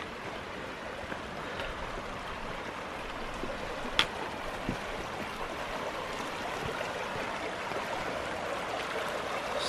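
Steady broadband rush of Pickle Creek flowing over granite along a state park trail, constant and moderately close, with a faint click partway through and no talk.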